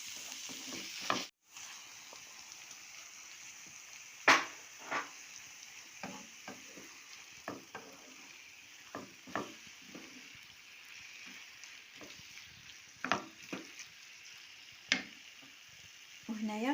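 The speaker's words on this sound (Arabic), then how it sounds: "فاش كتشحر البصله وكنضيفوا عليها الثومه حتى هي كتشحر كتعطينا واحد المذاق زوين." Sliced onion and garlic sizzle in a pan with chicken breast for a taco-dough filling, stirred with a utensil that gives soft scrapes and occasional sharper taps over a steady frying hiss.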